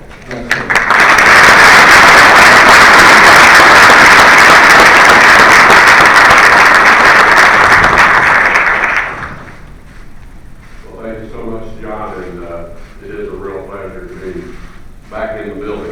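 An audience applauds to welcome the Secretary of State before a speech on US-India relations, loud sustained clapping for about nine seconds that then cuts off, followed by someone speaking.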